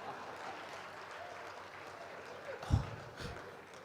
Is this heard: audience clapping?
yes